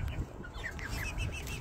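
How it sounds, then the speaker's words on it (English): Chickens roost in a family's backyard coop made from a converted shed, giving soft, faint clucks and chirps that repeat in a loose rhythm over a low background hum. "Here are some roosting birds, that's what she's on."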